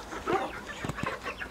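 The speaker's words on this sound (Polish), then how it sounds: "Czekajcie, to będzie kogut, na pewno" Chickens cluck in short, close bursts, with a rooster's throaty calls among the hens, brief and moderately loud with no talking.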